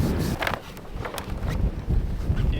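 Strong gusty wind buffets the microphone at a sailboat's anchorage, a loud continuous roar with rumbling low gusts and scattered rustling or creaking sounds, no voices.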